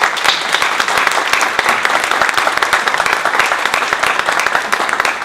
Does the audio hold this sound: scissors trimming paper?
no